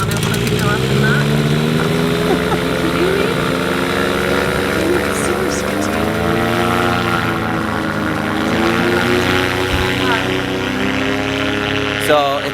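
Ultralight aircraft engine near a small desert landing strip by the Salton Sea, a steady droning buzz with shifting pitch that runs throughout, moderately close, while people talk over it.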